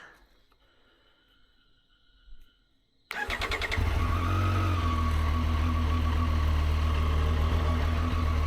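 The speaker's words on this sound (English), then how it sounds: "to start up this bike we do have to hold in the clutch" A Triumph Street Triple 765 RS motorcycle, started with the clutch held in, cranks briefly after a quiet stretch and a short whir, then catches into a loud, steady, close idle that fills the rest of the clip.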